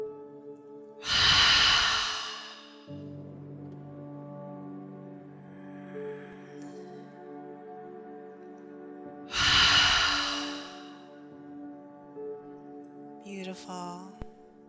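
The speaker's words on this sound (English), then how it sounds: "Big breath in, open through the mouth, exhale it out through the mouth." A chair yoga instructor takes deep breaths in and pushes them out through the mouth, giving two loud, close breathy exhales several seconds apart, with a low, quiet hum in between.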